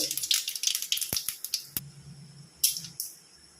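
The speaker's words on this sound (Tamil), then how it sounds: "கடுகு பொரிஞ்சிச்சு" Mustard seeds crackle and pop in hot cooking oil as a tempering for leftover idiyappam upma, with a scatter of sharp close-up snaps and sizzles over about three and a half seconds.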